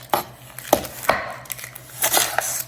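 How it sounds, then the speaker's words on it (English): A knife rough chops a red onion on a board, with about half a dozen sharp, irregular chops close by, some in quick pairs. "we're gonna rough chop this onion a little bit"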